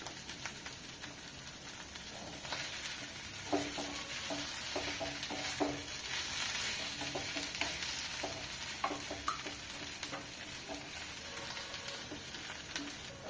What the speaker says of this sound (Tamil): இது நல்லா கலந்து விட்டுட்டு கடைசியாக ஒரு அரை மூடி தேங்காய் திருவி வச்சுருக்கேன் அதையும் இதில் போட்டுக்கோங்க